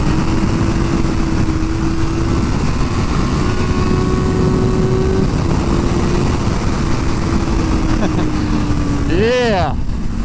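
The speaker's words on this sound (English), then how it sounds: "here we are doing a little bit of a sunset track ride on the all-new ZX-6R" A 2024 Kawasaki Ninja ZX-6R engine holds a steady drone on a sunset ride around a technical track with elevation changes and blind corners, heard through strong wind rush, with a brief rising whine near the end.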